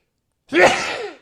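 A single sharp sneeze bursts out after a moment of silence, close and fairly loud, then trails off.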